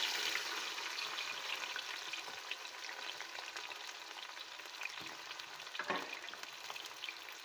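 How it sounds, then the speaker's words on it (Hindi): Onions frying in hot oil for an aloo gosht, a steady, dense crackling sizzle that holds evenly throughout, close up, with a couple of faint clinks near the end and no voices. "जब हमारा ऑयल गर्म हो जाएगा तो हम इसमें डालेंगे अपनी प्याज"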